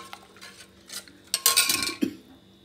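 A paste being stirred and mixed in a bowl, a few short scraping clinks of a spoon against the bowl, close and fairly quiet, with no talking.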